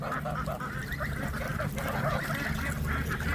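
Geese on a smallholding garden farm honk repeatedly in a steady, overlapping chorus. The calls stay fairly close and loud, with a low background rumble and no talk.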